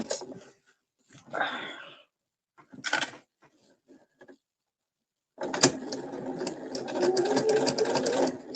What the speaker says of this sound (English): I am sewing the pocket right where it's supposed to be.